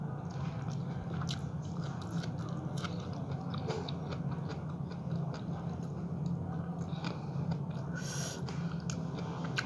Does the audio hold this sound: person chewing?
yes